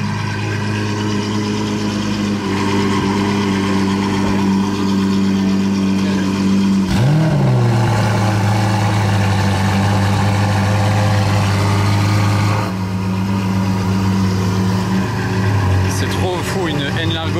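Ferrari cars tuned by Novitec in Monaco, their engines and exhausts loud and droning, with a deep steady rumble and a sharp rev partway through, and voices talking over it.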